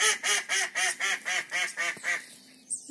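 A duck quacks loudly in a rapid, regular series of about nine calls close by, then falls quiet before a faint final sound.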